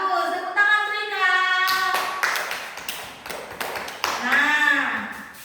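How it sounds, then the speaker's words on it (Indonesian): Children and a teacher in an elementary school classroom break into a burst of rhythmic hand clapping after a stretch of raised, sing-song talk, the claps sharp and close with voices continuing over them. "Tepuk tangan untuk Ika."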